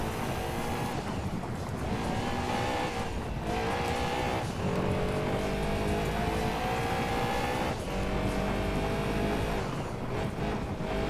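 Lancia Stratos rally car engine in the video game Gran Turismo 2, loud and continuous, revving up and down through gear changes with tire noise, no talk over it.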